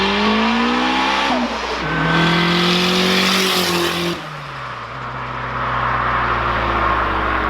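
Boosted K20-powered Honda Civic engine revving hard on a dyno, loud and close, with rising and falling pitch sweeps across several pulls and a steady roar between them.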